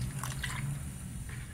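Water trickles and splashes into a pot of cooking sweet potato leaves, a short close pour over a steady background hiss.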